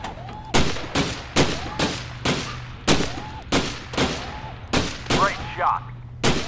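Gunfire from a second weapon in the VR shooting game Gun Club VR: about a dozen sharp, loud shots in a steady rhythm, each with a short ringing tail.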